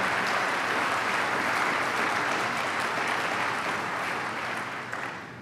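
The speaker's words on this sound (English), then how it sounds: "Give her a round of applause for the Nanotech Center." A large audience at a New York state government event with college presidents breaks into sustained applause, dense and steady from start to finish, fading slightly toward the end.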